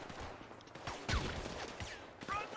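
Gunfire in GTA V roleplay, a faint, scattered volley of shots with a louder burst midway, heard from a distance under game noise.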